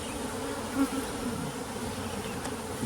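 Honey bees buzz steadily around a hive during an inspection, a dense continuous drone close by with no pauses.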